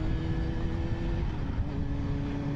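A truck passes close by a Yamaha R6 motorcycle on a highway, with a steady, loud rumble of traffic and engine noise throughout and no clear single pass-by peak.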